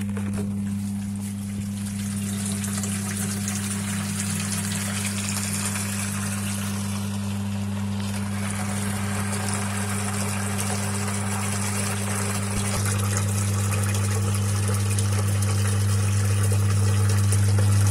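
A pump draws water up from a simple homemade well with a steady mechanical hum under a continuous rushing, gushing flow of stale water. The hum grows slightly louder toward the end, with no talking.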